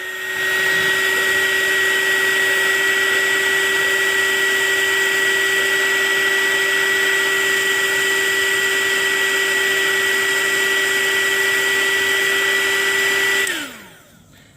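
A small $8 heat gun shrinks heat-shrink tubing over a repaired ignition coil wire on an F-150 truck, giving a loud, steady whirring blow for about thirteen seconds before the motor winds down and cuts off.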